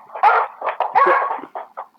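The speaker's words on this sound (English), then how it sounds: "It's the dog's barking." A dog barks in a quick irregular series of short, sharp yaps and yelps, close and fairly loud, with brief gaps between bursts and no talk over it.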